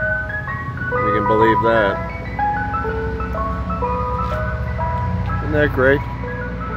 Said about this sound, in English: here comes Mr. Softee